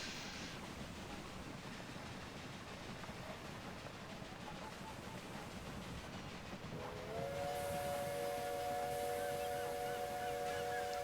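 A train in Railway Empire 2 rolls into a station with a low rumble, then a loud steam whistle sounds and holds for several seconds over the rolling noise, with no voices.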